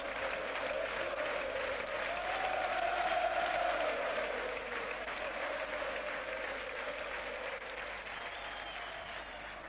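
A large indoor handball arena crowd roars and cheers continuously at a final, a dense sustained wash of voices and clapping that swells slightly midway, heard from a distance.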